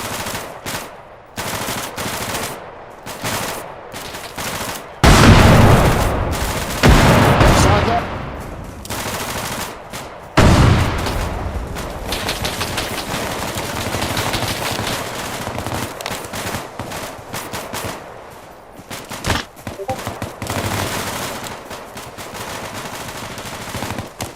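Rifle fire crackles through a tactical squad training drill, bursts of rapid shots, some loud and near, others more distant, with short shouted commands between volleys.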